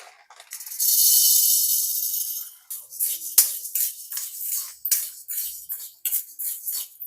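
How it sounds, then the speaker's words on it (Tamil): Black urad dal is dry-roasted in a pan, with a steady hiss followed by repeated scraping and rattling of a metal spoon against the pan, close and fairly quiet, with no talking. "நம்ம அடுத்து நம்மளுடைய கருப்பு உளுந்து வறுக்க போகிறோம்"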